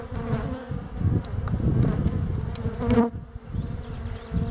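Honey bees buzz loudly and densely as they are shaken off a hive frame during a spring hive inspection, a close, continuous drone with a brief dip near the end.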